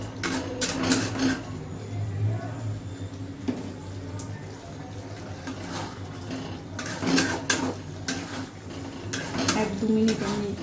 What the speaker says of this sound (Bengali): কসুরি মেথিটা দিয়ে একটু নাড়াচাড়া করবেন।